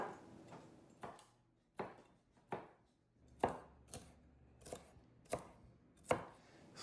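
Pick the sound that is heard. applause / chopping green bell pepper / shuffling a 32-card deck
chopping green bell pepper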